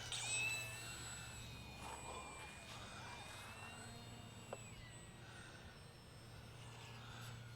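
A small UMX Air Tractor radio-controlled plane flies in to land, a faint, steady electric whine with a soft low hum, distant and quiet throughout.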